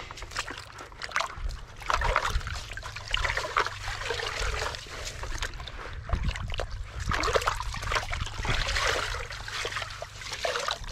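Water trickles and splashes irregularly as soaked filter foam from an Oase Filtral is squeezed, dribbling back into a container nearby.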